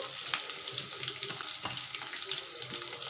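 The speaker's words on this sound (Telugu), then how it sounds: "లావుగా కట్ చేసుకున్న ఆనియన్స్ అయితే వేసుకుందాము" Thickly cut onions frying in a pan for spicy chilli rice, a steady hiss of sizzling with scattered crackles and soft stirring clicks, close and fairly loud with no talking.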